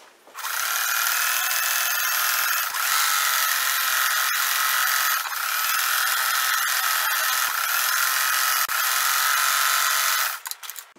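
Sewing machine running a continuous zigzag stitch up the side seam of a shirt being reworked into a woman's top, a steady loud whirring buzz held for about ten seconds before stopping.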